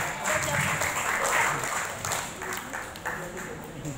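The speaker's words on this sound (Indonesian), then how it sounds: "Berikan tepuk tangan untuk mereka." An audience applauds young badminton champions, junior mixed doubles winners, at a PB Djarum award event; steady, dense clapping fills the whole stretch with a faint voice underneath.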